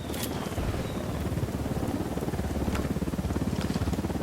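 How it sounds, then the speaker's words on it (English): Helicopter in the video game Ghost Recon Wildlands, a steady rhythmic rotor chop with engine drone holding loud and continuous throughout, the blade pulses growing slightly more pronounced toward the end. "Down, get down, chopper."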